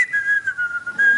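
A preacher whistles a wavering sustained tune in imitation of a whistling demon, a clear close whistle broken by short gaps for breath.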